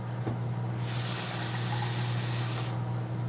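Water splashes into a glass of unpasteurized vinegar with the mother, a steady close hissing pour of about two seconds over a low background hum.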